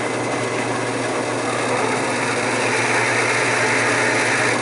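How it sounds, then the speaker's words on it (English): A drill boring a hole into a bottle stopper blank with a standard jobber bit, steady broadband whir running continuously and fairly loud throughout, with no voices. "Gently drill."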